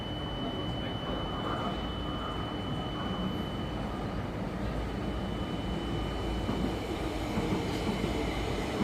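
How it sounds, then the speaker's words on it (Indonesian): A Sprinter train pulls into an Amsterdam station platform with a faint, steady rumble and hum of rolling stock, distant and even across the whole stretch, with a thin whine running partway through. "Ini dia keretanya, namanya kereta Sprinter."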